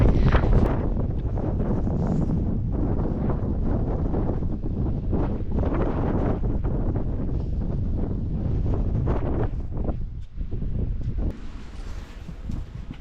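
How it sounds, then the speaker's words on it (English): Strong wind buffeting the microphone on an exposed rock summit on the Isle of Skye, a loud, continuous roar with gusty surges, heard alone without talk. "it is very windy"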